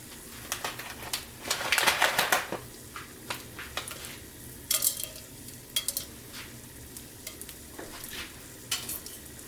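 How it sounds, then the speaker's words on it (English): Whole spices (khada masala) crackling in hot mustard oil, with irregular sharp pops and bursts of sizzle, loudest early on and then sporadic, alongside faint stirring clinks. "So now I have put khada masalas in mustard oil. I will let them crack for some time."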